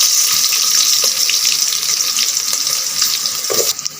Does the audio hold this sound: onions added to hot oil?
yes